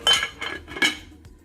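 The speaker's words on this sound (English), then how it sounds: "So I'm just gonna place my lid on." A metal lid is set onto a cooking pot of Canadian beef stew, giving three bright clinks in quick succession, close and fairly loud, with no voices.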